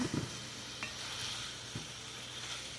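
Green chilies fry with a steady soft sizzle in a pan while a utensil stirs them, a few light scrapes and taps cutting through the continuous crackle, close and moderately quiet.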